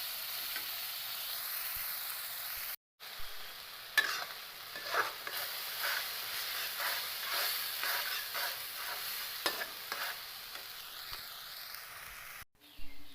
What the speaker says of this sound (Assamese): বিলাহীৰ কেঁচা গোন্ধটো নোযোৱালৈকে অলপমান ভাজি থাকিম